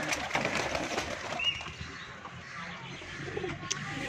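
Faint, low cooing from pigeons kept on a rooftop in Punjab, soft and somewhat distant over a steady outdoor background, with a brief thin chirp.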